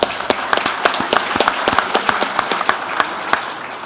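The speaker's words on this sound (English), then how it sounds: "let's give a round of applause for the panel members" Congress audience giving the panel members a round of applause, with loud, close, brisk clapping from many hands that keeps a steady, crisp patter the whole time.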